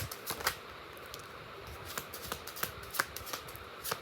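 A deck of tarot cards is shuffled with a quick, crisp riffle and a series of scattered flicks and snaps at close range, with no talking.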